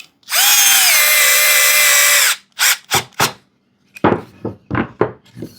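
A power driver whirs for about two seconds, driving a screw into a wooden Pikler triangle climbing toy, then falls silent and is followed by several short knocks and thumps from handling the wood nearby.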